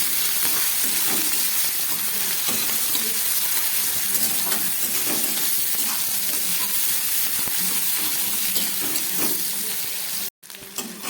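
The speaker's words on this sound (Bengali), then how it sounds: "দিয়ে খুব ভালো করে পেঁয়াজ আর টমেটোটাকে ভেজে নিচ্ছি" Onions and tomatoes sizzle steadily in hot oil for a prawn and jackfruit curry, a dense continuous crackle with occasional stirring scrapes, close and loud throughout before a brief dropout near the end.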